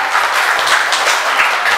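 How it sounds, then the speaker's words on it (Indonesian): Audience at a Muslimat women's gathering on digital preaching in East Jakarta applauds Kader Umar, a brief, loud, dense burst of crowd clapping that carries through the whole moment. "berikan tepuk tangan sekali lagi untuk Kader Umar"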